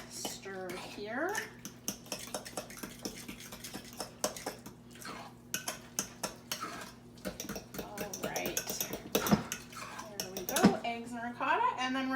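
Ricotta is stirred in a mixing bowl, a spoon tapping and scraping against the bowl in a quick uneven rhythm, fairly faint and close, with brief talk over it.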